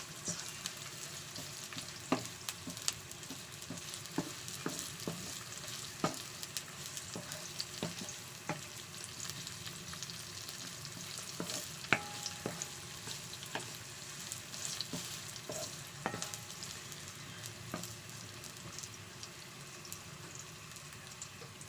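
Onions sautéing in a pan for a smoked fish dish, a soft continuous sizzle with scattered faint taps of stirring across the whole stretch, quiet and without any talk.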